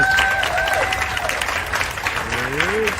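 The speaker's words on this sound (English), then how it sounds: "Please give him a round of applause." An audience claps for a guest being honored at a recovery event, the applause running continuously beneath overlapping voices and a couple of brief tonal sounds.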